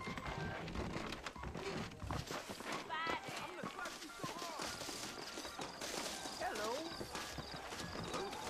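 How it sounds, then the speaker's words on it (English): Saddled horses in the Red Dead Redemption video game clip-clop along at a walk, a steady patter of hooves with a whinny, running under people talking. "I got the horses saddled up and ready out front."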